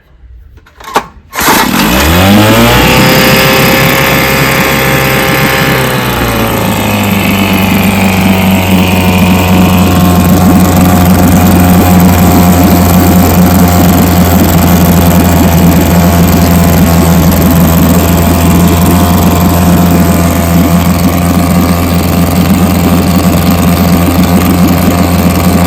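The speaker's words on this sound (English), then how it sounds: "I got my boneyard, 3 horsepower, rebuilt. I rebuilt the car magneto, and watch this baby run" A rebuilt vintage 3 horsepower outboard motor with a rebuilt magneto starts after a few pulls, then settles into a loud, steady running buzz close by. Its idle shifts slightly after a few seconds and then holds constant.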